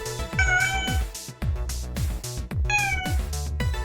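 A pet cat meows loudly and close by, giving a few repeated calls in a row, the pitch rising and falling, over steady low background noise from a game stream setup.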